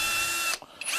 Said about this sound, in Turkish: Hemen yanına bir de yüksek devirde delik açalım.